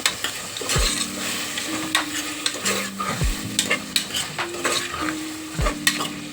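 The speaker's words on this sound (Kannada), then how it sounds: "ಅದೆಲ್ಲ ಸ್ವಲ್ಪ ಕ್ಲೀನಾಗಿ ಮಿಕ್ಸ್ ಮಾಡ್ಕೊಳ್ಳಿ ಎಣ್ಣೆಗೆ ಬೇಕು ಅದಕ್ಕೋಸ್ಕರ ಚೆನ್ನಾಗಿ ಮಿಕ್ಸ್ ಮಾಡಿಬಿಟ್ಟು" Tomato bath is stirred in an oiled pan, a spoon scraping and clinking against the metal in repeated strokes over a steady close sizzle, with no voices.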